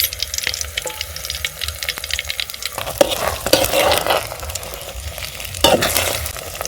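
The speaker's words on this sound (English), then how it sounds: "When my onions are golden brown, now I'll add my eggs." Eggs are added to golden-brown onions frying in cooking oil in a pan. A steady sizzle runs under scraping stirs, with louder crackling swells as the eggs hit the hot oil.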